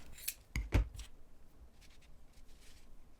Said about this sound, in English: If you have any excess, you can go ahead and trim it off.